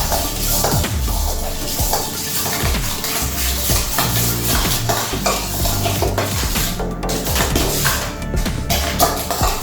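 A spoon stirs homemade chocolate ice cream mixture in a metal pot, loud continuous scraping and clinking against the pan with a faint sizzle beneath, no speech.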